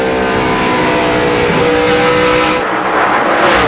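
NASCAR stock cars roar past at the 2002 Southern 500, with loud, continuous engine noise from several cars close by, including Rusty Wallace's No. 2 car, and a rush of passing sound near the end.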